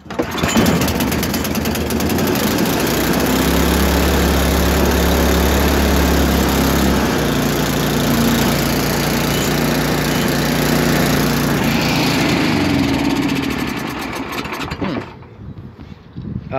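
A Tecumseh HM80 8-horsepower 318cc small engine runs after repair, a loud, close, steady mower-like drone with a deeper throb early on, then it cuts out and winds down near the end.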